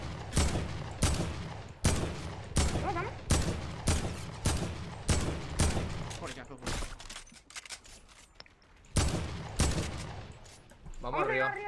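Fortnite Battle Royale gunfire sounds as loud, evenly spaced single shots, each with a sharp crack and a short echo, keeping a steady rhythm. A voice speaks near the end.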